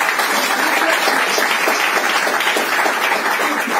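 A crowd at a Marathi gathering breaks into loud, steady applause, dense clapping from many hands filling the space evenly without a break.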